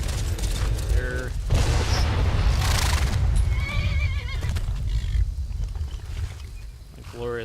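Horses neigh and whinny in the game Skyrim, with several shrill, loud calls alongside clip-clopping hooves and a rumbling game background.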